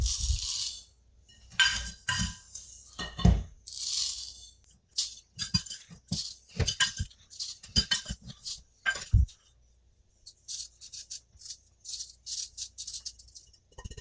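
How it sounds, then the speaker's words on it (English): Dried homemade potato flakes scooped into a glass quart mason jar through a canning funnel, a series of close, irregular scrapes, clinks and soft pours with short pauses between scoops. "I got a quart jar, my little canning funnel, and we scoop."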